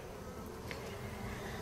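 Honey bees hum inside an opened backyard beehive during a hive inspection, a soft, continuous droning buzz with a few brief louder passes.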